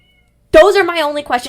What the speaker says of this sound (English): hold on, that's my cat